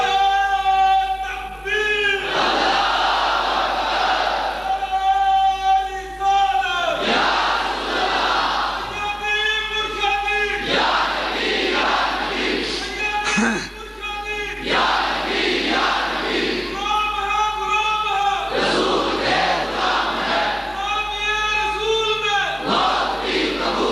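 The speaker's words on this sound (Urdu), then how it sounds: "تم بھی نعرہ لگاتے ہو۔" A congregation loudly chants a religious slogan together in call-and-response waves, many voices rising in sustained, rhythmic shouts repeated several times at a religious gathering in Model Town.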